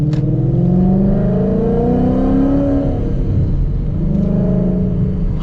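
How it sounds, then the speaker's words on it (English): A tuned Stage 3 Roush Mustang engine revs hard through a loud exhaust, a deep close rumble rising and falling in pitch over several seconds, with sharp crackles at the start and near the end. "it's still actually exciting to drive because of how ridiculous this exhaust is"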